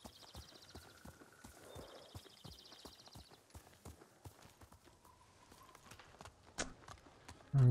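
Horse hooves clip-clop steadily while riding in Ghost of Tsushima, a rhythmic series of close, sharp hoof strikes, with faint chirping and ambient sounds in the background.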